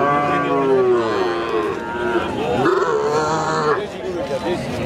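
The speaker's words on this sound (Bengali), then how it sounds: "এই যে দেখেন একটা বাছুর।" A calf lows repeatedly at a busy cattle market, its calls close and wavering, partly under people talking nearby, with other livestock sounds around.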